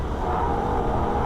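A Holden VF Ute engine roars at wide open throttle during a record run at the Nürburgring, a loud, continuous, dense engine note held steady for the whole moment with no talking.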